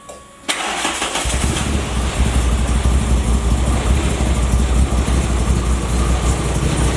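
A car engine fitted with a homemade DIY velocity stack cranks and fires after a brief pause, then settles into a loud, steady, rumbling idle as it warms up, with no talking.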